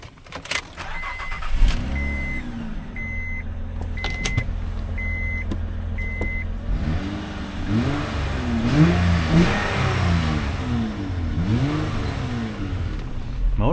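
An old 2008 Hyundai Sonata engine idles, then revs up and down repeatedly, with rising and falling whines. A few sharp clicks and a short electronic beeping come early on.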